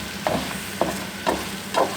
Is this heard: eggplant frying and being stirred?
yes